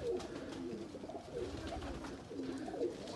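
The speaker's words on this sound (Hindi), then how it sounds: "जनाब ये जोड़ों वाले और परवाजी कबूतर हैं, इंतहाई शानदार कबूतर हैं" Breeder and high-flyer pigeons coo continuously in a loft, overlapping soft throaty rolls from several birds close by, with a constant hiss of background noise and no talking.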